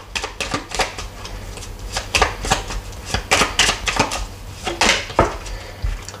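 Lenormand cards shuffled and cut by hand, giving a close run of crisp flicks, riffles and light taps in irregular bursts.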